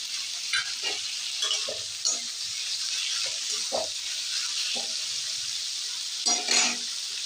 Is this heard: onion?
yes